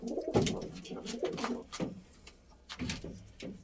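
Breeding pigeons coo in a loft with soft, repeated throaty calls, fairly close and moderately quiet, alongside light shuffling and handling noises.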